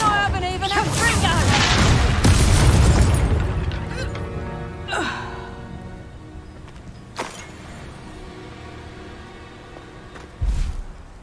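Confringo fire spell explosions in the Hogwarts Legacy video game: a long roaring blast early on, then several sharper bursts spaced a few seconds apart, loud and close.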